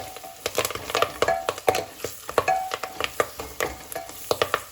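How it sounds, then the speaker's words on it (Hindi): Kashmiri haakh greens sizzle in a hot tadka in a pan, with a steady frying hiss and repeated sharp scrapes and clicks of stirring. "अच्छे से भून लेंगे"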